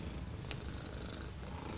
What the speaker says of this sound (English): Now, my cat is down here, wanted to say hello.